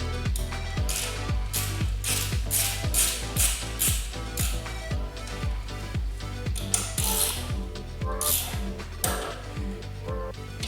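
A wrench ratcheting as the front bicycle wheel skewer is tightened, a close, steady run of sharp metallic clicks at an even rhythm, with no talking.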